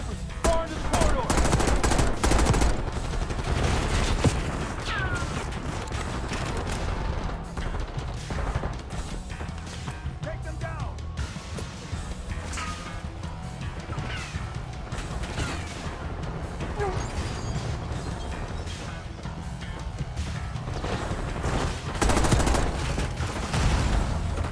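Automatic gunfire in a Call of Duty: Black Ops 6 mission, a continuous dense clatter of bursts and mechanical clanks over a busy game soundscape, steady and loud throughout with a few heavier crashes.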